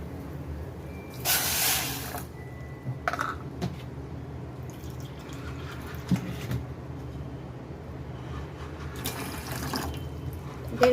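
Water runs into a cooking pot holding about a cup of sugar, roughly one and a half cups for syrup, in a few short splashing bursts separated by quiet kitchen clatter.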